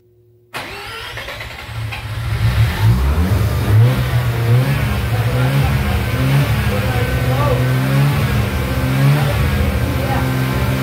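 A rotary engine with about 5 milliliters of ATF added to each housing cranks and struggles to start, a loud, steady, churning mechanical drone running for about ten seconds with voices talking over it.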